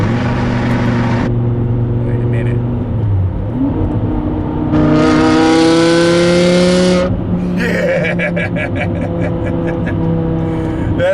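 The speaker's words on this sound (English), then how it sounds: "And this exhaust brings out the best in the freaking V10." A manual 2008 BMW E60 M5's V10 engine with an active exhaust idles, then revs up sharply to a loud, high wail before settling back down, close by.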